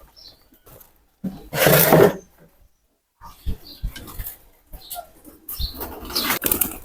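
Pigeons on a farm in Bangladesh take off and flap in as morning feed is put out: a loud burst of wingbeats near the mic, then a quieter lull, then more rustling flaps building again toward the end.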